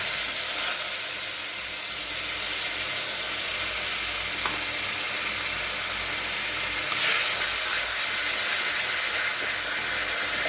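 Raw banana paste frying in a little oil in a wok gives a loud, continuous, close hissing sizzle throughout, with a few faint clinks and no talk.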